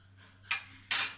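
A metal spoon clinks twice against a bowl while adding vinegar to falsa (phalsa) chutney, two short, bright taps about half a second apart over quiet background hum.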